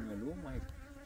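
Bees drone and buzz around beehives close up, a continuous wavering hum that rises and dips in pitch over a low rumble, with no voices.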